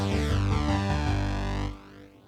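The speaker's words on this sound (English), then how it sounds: "Now we go to the brass, which sounds like this." Synthesizer brass patch, tuned in the style of Steve Winwood's 'Valerie' with chorus enabled, sounding one held chord with a bright buzzy timbre that swells briefly and then cuts off into a short decaying tail.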